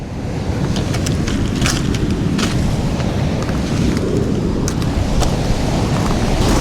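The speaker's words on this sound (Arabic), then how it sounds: "شوفوا كاين البحر." Steady broadband surf rolls continuously onto a rocky shore where shellfish are gathered, a loud, unbroken wash of breaking sea waves with no voices over it.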